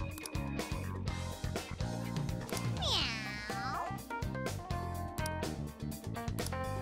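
A cat meowing in the video game Persona 5 Strikers, one clear rising-and-falling meow in the middle, heard over continuous game music.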